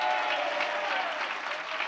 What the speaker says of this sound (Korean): 박수로 영광을 올려드리겠습니다